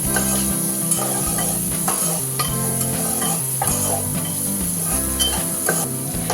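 Onion, green chillies, ginger, garlic and curry leaves sauté in hot oil for fodniche varan, a steady loud sizzle broken by repeated scraping stirs of a spoon against the pan, with no talking.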